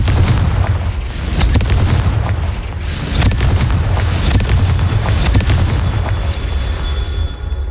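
Fire-blasting Confringo spell explosions in a Harry Potter video game, booming in rapid succession as loud, dense bursts layered over continuous rumbling game sound.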